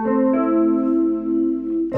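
A Yamaha PSS-390 electronic keyboard plays its piano voice, a sustained chord with a couple of fresh note strikes, clear and close with no talking.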